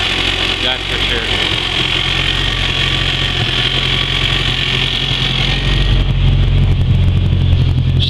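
A 400hp race Honda Civic engine idles steadily just after start-up on race gas, a loud, close, even mid-pitched rumble with a slight rise in intensity near the end.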